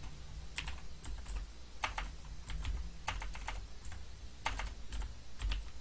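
Rapid bursts of computer keyboard typing on a faulty keyboard during a computerized accounting lesson, close and clattering in uneven clusters of keystrokes over a low steady hum, with no voices.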